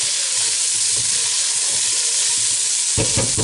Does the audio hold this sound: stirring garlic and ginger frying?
yes